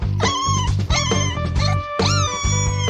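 A Tibetan Mastiff puppy whimpers and whines close by in several high, wavering cries, some rising and falling in pitch, with short gaps between them.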